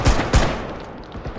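Gunfire in a first-person shooter game: two sharp, loud shots close together near the start, followed by a quieter trailing shot and a fainter burst near the end.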